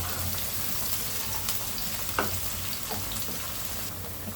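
Chopped onion sizzles in a small amount of hot oil in a pan, a steady, dense crackle and hiss with occasional sharper pops and brief stirring sounds.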